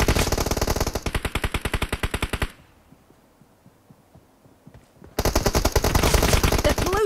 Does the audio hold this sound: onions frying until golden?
no